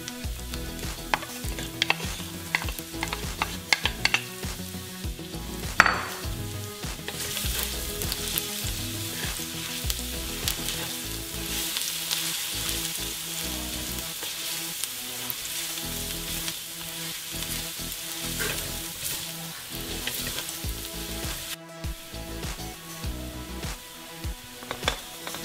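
Garlic frying in a pan while being stirred, with a steady loud sizzle and scraping stir sounds throughout, no talking.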